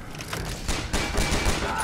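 Rapid bursts of gunfire from the video game Fallout: New Vegas, a string of sharp close shots and thuds over a couple of seconds.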